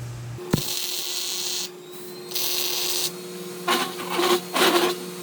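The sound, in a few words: welding the sides of a press tooling holder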